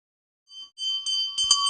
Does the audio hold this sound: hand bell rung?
yes